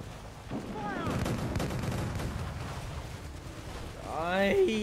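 Ship cannons boom in a rapid volley of rumbling blasts during a naval battle in the game Assassin's Creed Black Flag, with someone shouting over them.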